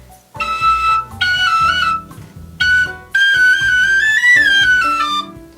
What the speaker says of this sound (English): I have a tin whistle.